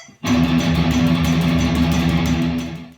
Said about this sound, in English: It's all on E and it's straight 16th notes at about 180 BPM